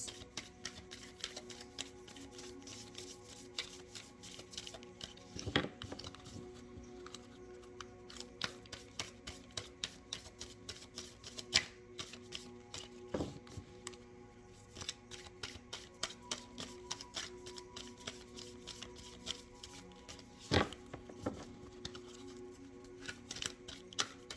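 Oracle cards are shuffled in quick, irregular riffles and soft slaps, a busy crisp clicking texture close by, with occasional louder snaps.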